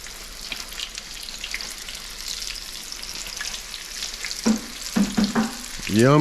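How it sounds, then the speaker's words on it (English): Steady crackling sizzle of iguana meat deep frying in hot oil, loud and continuous, with a burst of bubbling and a faint rising tone near the end. "now we're ready for some hot oil and deep fry"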